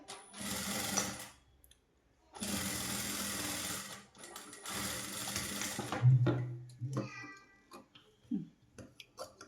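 Sewing machine stitching a small blouse for a three-year-old child runs in three close bursts of steady whirring. Brief clatter and a low meow-like sound follow.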